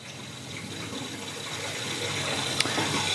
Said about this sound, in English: So I'm going to slowly increase flow again. And we'll see the valve respond